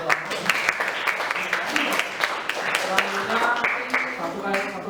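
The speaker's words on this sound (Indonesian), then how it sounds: "Tepuk tangan ulang." Students in a music lesson clap together in an uneven, moderately loud round of applause that carries on steadily for several seconds, with voices mixed in underneath.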